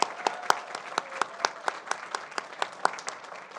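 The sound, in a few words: applause for poetry competition finalists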